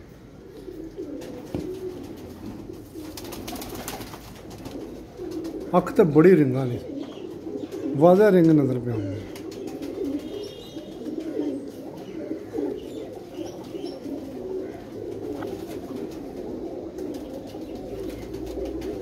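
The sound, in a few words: pigeon held in hand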